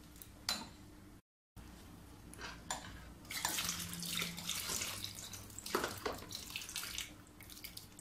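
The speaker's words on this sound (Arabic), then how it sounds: "كنبقى نزيد بشويه بشويه بشويه وفي نفس الوقت كنخلط. وغادي نزيد كذلك الماء." Water is poured a little at a time into a mixture in a cocotte pot while it is stirred, giving intermittent splashing and scraping bursts at close range with no talking.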